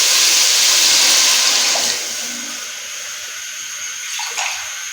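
Water is poured into a cooking pot for matar pulao, a loud, continuous splashing rush that eases to a softer, steady flow partway through, with no speech.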